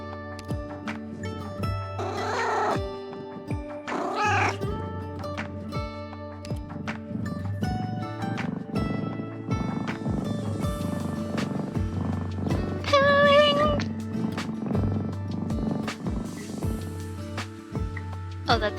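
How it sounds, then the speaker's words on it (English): Cat meows from a video game, several drawn-out mews standing out over looping game music and soft thudding steps, with a faint voice briefly underneath. "I'm gonna turn up the audio for the game so you can hear the meowing."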